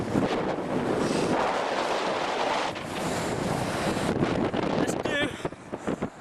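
Strong wind on a beach buffets the microphone in loud, roaring gusts over the wash of surf, with a person speaking briefly.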